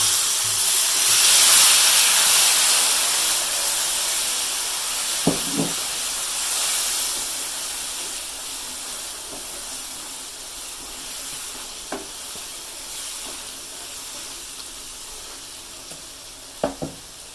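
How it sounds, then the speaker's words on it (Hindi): Milk poured into semolina roasted in hot oil for suji halva, giving a broad steady hiss and sizzle of steam that swells early, then settles into a fainter bubbling hiss with a few light utensil clicks. "इसमें हम एक आधा कप जो है इसमें दूध डालेंगे।"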